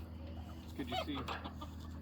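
Chickens cluck faintly in a farm livestock setting, a few soft clucks under a low steady hum while a person speaks nearby.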